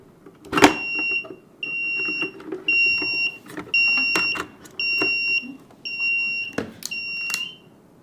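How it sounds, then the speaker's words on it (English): A shrill electronic alarm from a smart-home sensor demo, triggered by a simulated lightning strike, beeps in a steady repeating pattern of short tones, with a few sharp knocks and low background hum underneath. "and you'll hear the alarm."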